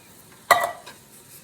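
A single short metallic scrape of a spoon against a pot while stirring meat sauce with tomato sauce, quick and close, then a softer faint follow-up scrape in near quiet.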